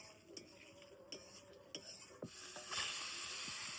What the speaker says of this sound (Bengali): এবার বাদ বাকি যেই চুনো মাছগুলো আছে ওগুলো ভাজবো